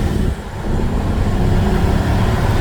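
A 2014 police Caprice with a 6.0-litre V-8, a police pursuit vehicle, driving hard: a loud, steady engine roar with road noise, heard from inside the car.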